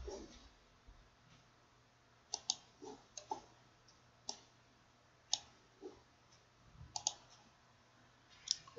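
A computer mouse clicks on a tab in accounting software, sounding as a series of faint, crisp single and double clicks spaced irregularly against quiet room noise.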